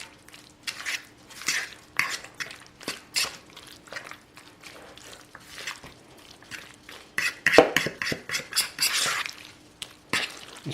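A salad with eggs and paprika is gently tossed in a bowl, giving light, irregular clinks and soft clatters of utensils against the dish, with short scraping and mixing sounds spread through the clip at moderate, close level.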